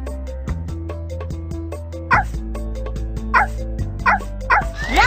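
A cartoon puppy in a Dora the Explorer video game gives several short, bright yips over bouncy game music, each bark clear and close.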